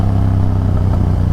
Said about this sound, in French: vous avez entendu un peu le bruit de l'échappement de cette bécane là?